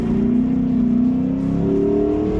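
The V8 of a 2006 Ford Mustang GT with a worn differential and old tires drones steadily under load on a race track, its pitch rising slowly as the car accelerates, loud and close.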